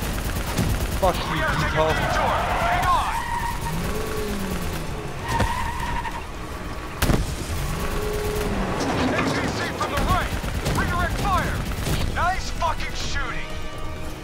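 Call of Duty Black Ops 3 gunfire in a chaotic firefight, with bursts of shots, explosions and mechanical roar running under excited voices shouting throughout.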